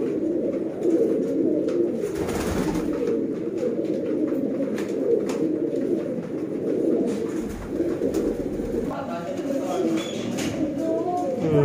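Sialkoti pigeons coo steadily in a low, continuous murmur, many birds close together, with a few sharper sounds near the end.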